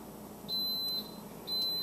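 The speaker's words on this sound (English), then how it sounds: "I'm just waiting for the little buzzer to tell me that it's up to temperature." Two clear electronic beeps from a toaster oven buzzer signalling it has reached temperature, each a steady high tone lasting about half a second, over quiet room background.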